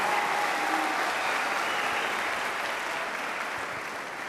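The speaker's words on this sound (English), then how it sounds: "Let's give our wonderful students a round of applause." An audience at a fourth grade choral festival gives the student singers a round of applause, a continuous, even wash of clapping that eases slightly toward the end.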